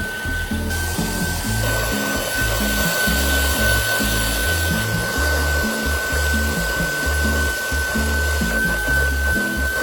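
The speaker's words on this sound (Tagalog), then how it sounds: "vacuum na yung ginagamit ko na panglinis dyan para simot na simot talaga yung mga dumi." A vacuum cleaner runs close by at home while it cleans dust from corners and crevices, its loud steady whine paired with a rhythmic thumping and rubbing as the nozzle moves back and forth.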